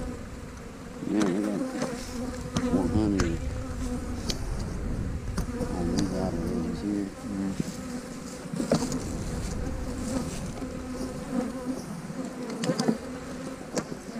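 Honey bees buzzing around hives on a farm, a dense continuous drone with individual bees zipping close past and fading, steady throughout with some background rustle.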